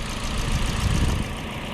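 A 1.6-liter four-cylinder engine in a 2022 Toyota Corolla Altis idles close by with the hood open, giving a steady low rumble at even loudness throughout.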